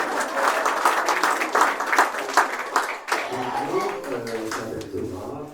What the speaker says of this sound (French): Thomas, il est là, on peut l'applaudir à Thomas.